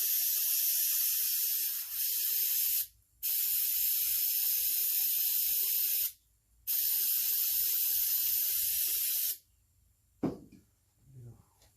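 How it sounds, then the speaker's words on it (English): Wire brush scrubbing bolts on a G-body steering box job, heard as three long, steady, loud bristly hissing passes broken by short pauses, ending with brief clunks of handling. "Wire brush on them real quick."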